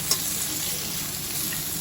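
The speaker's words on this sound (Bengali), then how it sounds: "ভাজা হয়ে গেলে এর সাথে সেই ভাজা লেজাটাও দিলাম আর একবার একটু ভেজে নেবার জন্য।" Hilsa fish head and tail frying in mustard oil in a pan, a steady, close sizzle that holds evenly throughout with a faint stir near the start.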